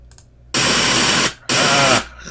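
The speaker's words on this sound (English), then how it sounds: "So you can also create noise. Here's some white noise." Two loud bursts of harsh white noise generated in Audacity, each about a second long, separated by a short silence.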